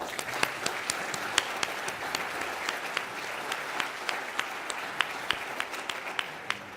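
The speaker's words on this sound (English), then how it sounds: "Let's give a round of applause" Applause from the audience at a county luncheon, a moderate spread of individual claps with sharp distinct hits, steady for several seconds.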